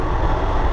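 A long-distance passenger train running late between Bangalore and Malda, its steady low rumble and rolling wheel noise heard from inside the carriage, continuous and fairly loud with no talk.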